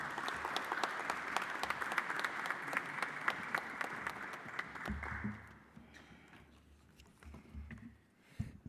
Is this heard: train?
no